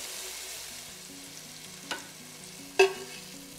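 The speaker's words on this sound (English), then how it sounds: "flip the lemon slices over and let them cook, for maybe 15 to 30 seconds" Lemon slices fry in a pan with a soft, steady sizzle that runs throughout, broken by a faint clink and then a sharper utensil tap near the end, close and without talk.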